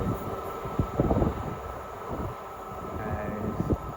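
Ex-TransPennine Express Class 350 electric unit at Watford Junction on the West Coast Main Line, a low steady rumble with wind buffeting and a few clanks as it moves near the platform.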